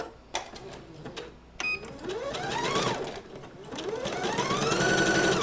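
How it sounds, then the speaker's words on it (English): Domestic sewing machine stitching knit fabric for a T-shirt, running in rapid bursts with a rising and falling whir, fairly close and loud, with short mechanical clicks between runs. "as you're sewing with your sewing machine on with knits"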